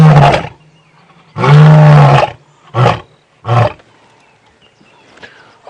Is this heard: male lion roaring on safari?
yes